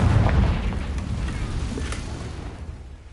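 In Hogwarts Legacy, a Confringo spell detonates with a heavy, booming blast that opens loud and rolls off into a fading, crackling rumble over several seconds.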